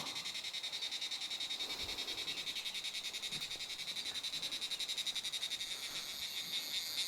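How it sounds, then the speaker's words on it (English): A dense, continuous high-pitched buzzing trill pulses rapidly and evenly, like an insect calling nearby, over a quiet outdoor background. "I can hear the silence and the call of beetle."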